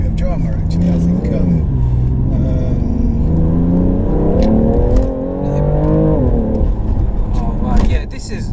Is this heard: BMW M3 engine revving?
yes